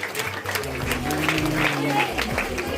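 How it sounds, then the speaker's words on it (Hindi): An audience at a school annual function gives loud applause to honour guests, a continuous crowd roar of clapping over a low steady hum and some background voices. "जोरदार तालियों से हमारे अतिथियों का सम्मान करें"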